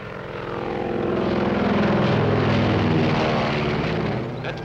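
Propeller airplane droning overhead, its engine swelling to a loud steady roar and holding for several seconds before fading slightly.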